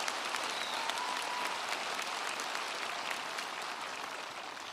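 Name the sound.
audience applause at a college commencement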